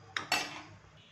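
Roasted fasting lapsi is transferred onto a plate, giving two quick metallic clinks of a spoon against the dishes, close and clear, then a brief ringing decay into quiet.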